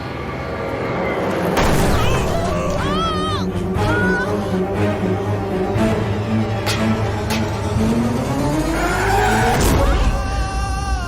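A car pulls up and skids to a halt with loud screeching tyres, engine revving and rising and falling tones up close, with sharp bursts of squeal throughout.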